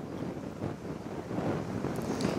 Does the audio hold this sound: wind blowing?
yes